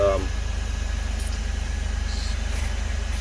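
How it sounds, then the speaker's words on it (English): A portable generator runs steadily, powering a heat gun at about 880 watts, with a constant low engine hum and even vibration throughout. "The generator, oh wow"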